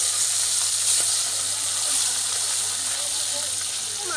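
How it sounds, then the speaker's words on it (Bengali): Khoyra fish rubbed with salt and turmeric frying lightly in a pan, a loud continuous sizzling hiss that stays even throughout. "মাছগুলি হালকা করে ভেজে নেব।"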